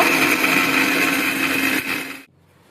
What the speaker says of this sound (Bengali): মিক্সিং জারের বাটিতে দিয়ে দিলাম। আমি গুঁড়ো করে নেব।